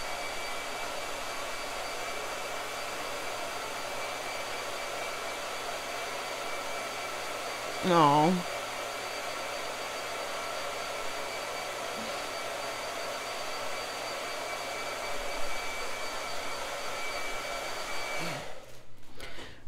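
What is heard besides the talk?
blow dryer drying paint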